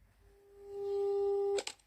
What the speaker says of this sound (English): He call him again. The phone is not pick again.